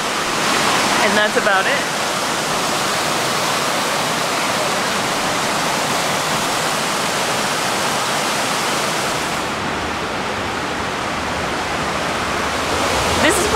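A river rushing through a mountain village in Japan, a loud, steady roar of flowing water that fills the scene, with a brief spoken remark near the start.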